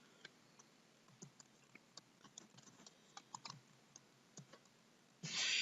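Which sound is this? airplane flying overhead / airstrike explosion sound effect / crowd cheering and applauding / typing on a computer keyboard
typing on a computer keyboard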